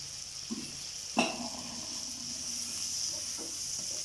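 Tomatoes with salt and slit chillies being stirred in a frying pan for a fish biryani, a steady soft sizzle with a few scraping clicks of the spoon, close and without talk.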